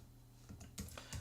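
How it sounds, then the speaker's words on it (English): Paragraphs are being typed on a computer keyboard in Microsoft Word 2010: a few soft, close key clicks that quicken toward the end, faint and alone. "So now I can move on and type in my paragraphs."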